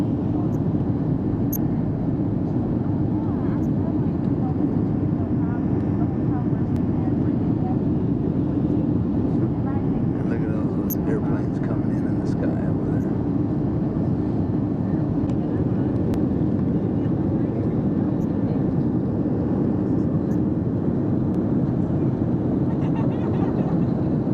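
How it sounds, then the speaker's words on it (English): Aircraft approaching to land at night, a steady, loud low rumble of jet engines filling the scene throughout, with a faint voice or two in the background. "you can see a bunch of airplanes, the lights of a bunch of airplanes as they're coming in."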